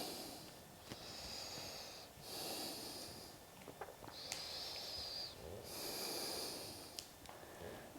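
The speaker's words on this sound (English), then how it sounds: "Just breathing here." Slow, steady breathing of a person holding a yoga pose on hands and feet, heels lifted, with long airy inhales and exhales repeating in a calm rhythm, close and fairly quiet, no talking.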